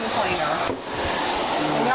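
A household vacuum cleaner runs steadily at close range, giving a loud continuous whooshing drone with a brief dip in the middle.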